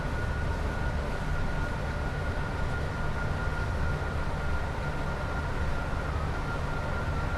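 A Class 87 electric locomotive in Train Sim World 5 runs steadily along the West Coast Main Line between Preston and Carlisle, a continuous rumbling drone with a faint whine, close and even throughout with no talk.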